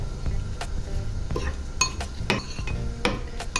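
A spoon clinks and scrapes against a bowl while stirring a mixture of oil and white 9% vinegar, with irregular close metallic taps over a low background hum.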